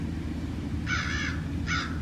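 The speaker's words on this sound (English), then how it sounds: "Oh, there goes our crow." A crow gives two loud caws outdoors at a Native American shell mound. The first call is longer and the second is short, both over a low, steady background rumble.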